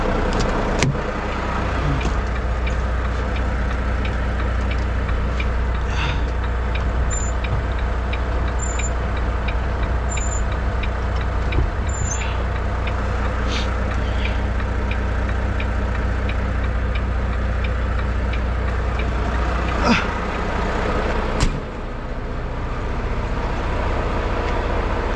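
A car engine idling steadily at close range while its RPM is checked, a constant low hum with occasional clicks and faint high chirps over it.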